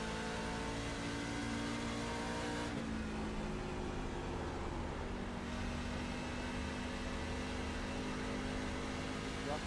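Race car engine in a racing video game holds a steady, loud drone with tonal harmonic lines throughout, easing briefly in the middle before building again, under occasional commentary.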